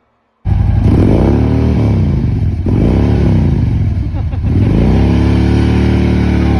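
A three-wheeled motorized tricycle's engine starts abruptly and runs loud and close, revving up and down in several swells with a rough, clattering tone, while voices talk over it.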